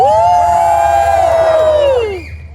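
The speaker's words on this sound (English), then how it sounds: "You can cheer louder, it's fine." Audience at a Disneyland Deadpool storytime show cheers loudly, with one drawn-out whooping voice standing out above the crowd before it fades away at the end.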